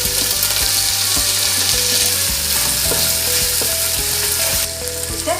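Tomato frying in a pan for mutton gravy, a steady loud sizzle with spoon stirring scrapes throughout, no voices.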